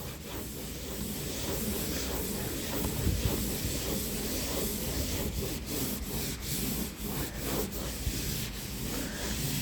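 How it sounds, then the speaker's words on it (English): Shaving cream is rubbed back and forth over a stain on a wall, producing a continuous, close, scratchy rubbing that holds steady for the whole stretch, with no talk. "So what you want to do is just keep rubbing."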